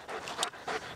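A pet dog pants in quick, breathy bursts close by during an obedience training session, the short rasping breaths coming alone with no talk over them.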